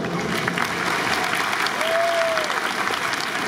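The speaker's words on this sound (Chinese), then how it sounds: "掌声送给四头。" A crowd at a Fubon Guardians home game in the Taipei Dome applauds the game MVP, pitcher Chen Shih-peng, with steady, full clapping throughout, a brief tone rising over it midway and some voices underneath.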